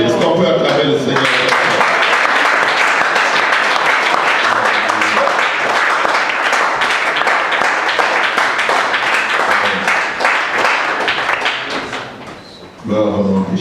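A church congregation applauds and cheers in praise of the Lord, dense sustained clapping mixed with shouts and voices filling the room, continuing steadily before tapering off near the end as a voice returns.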